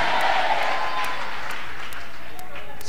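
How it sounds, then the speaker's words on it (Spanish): A church congregation applauds in a loud, continuous wash of clapping, with voices and crowd noise blended through it. "Oh, cuánto le aplaudan de verdad"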